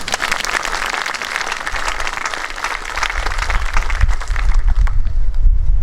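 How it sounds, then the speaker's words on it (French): A congregation at a Catholic Mass applauds steadily, a dense patter of many hands clapping that swells louder toward the end, close and continuous. "Vous pouvez l'applaudir."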